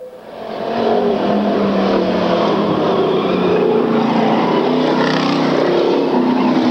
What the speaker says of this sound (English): Sounds like Phil's car is loading up just a little bit.